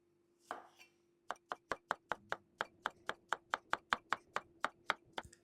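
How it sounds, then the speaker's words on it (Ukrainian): After a brief rustle, a knife slices a banana into rounds on a board, about eighteen crisp, evenly spaced taps in a quick, regular rhythm, close and clear. "треба один банан, друзі. І ось так гарно його нарізаємо."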